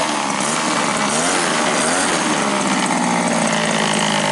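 A 1934 Ford Coupe engine idles with a steady, loud, dense rumble that holds constant throughout, with no voices.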